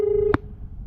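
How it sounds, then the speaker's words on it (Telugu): A telephone line tone sounds after dialing a busy number, a steady tone that ends in a brief burst before quiet line noise. "మీరు డయల్ చేస్తున్న నంబర్ ప్రస్తుతం బిజీ."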